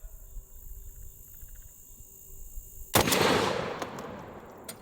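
A single loud gunshot firing a boxing glove round goes off partway through, with a sharp crack and a short ringing tail after a quiet stretch of low background hiss.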